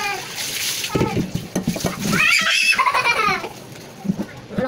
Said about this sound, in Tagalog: Yung anak ko maingay, pinapaliguan lang.